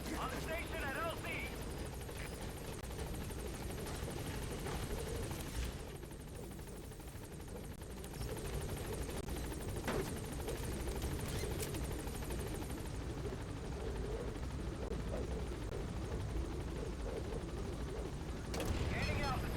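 A B-Quad helicopter from the video game Metal Gear Solid V arrives at a landing zone, its rotor noise a steady loud drone that fills the whole stretch, with radio voices talking over it.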